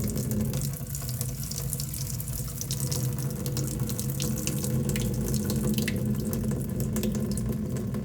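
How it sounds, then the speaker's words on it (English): Water runs steadily as soaked alfalfa seeds are drained, a continuous close splashing pour like a tap into a sink, alone for the whole stretch. "After the initial hour of soaking, I'm just going to drain these."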